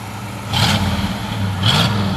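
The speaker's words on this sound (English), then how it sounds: "It's got a nice dual exhaust" A 1964 Chevrolet Malibu SS coupe's engine idles through its dual exhaust with a deep, low, throaty rumble, briefly swelling twice as the throttle is blipped, close by and without talk.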